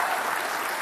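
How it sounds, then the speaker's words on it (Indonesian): Crowd applause breaks out among the studio audience at a televised Jakarta gubernatorial debate, a dense, steady wash of clapping held at a loud level through the whole short burst. "Kita kasih tepuk tangan."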